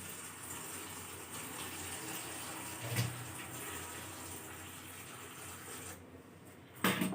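Tap water runs steadily over fresh spinach leaves being washed, a continuous broadband gush with a brief splash near the middle and a sharper clatter at the very end, heard close and alone.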